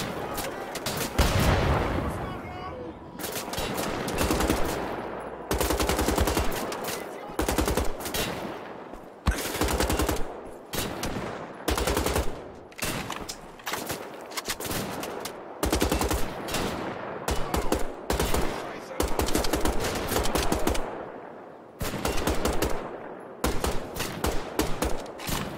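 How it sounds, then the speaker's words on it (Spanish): Rapid bursts of automatic gunfire from Wolfenstein: The Old Blood, loud and repeated, separated by short gaps of near silence. "Estoy disparando"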